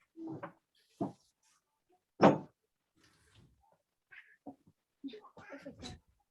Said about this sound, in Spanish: Voy a ir a abrirle al gato que está ahí reclamando por la ventana